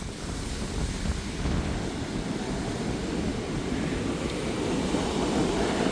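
Ocean waves rolling onto a Florida beach at night under a full moon, a continuous low surf rumble mixed with gusty wind buffeting the microphone.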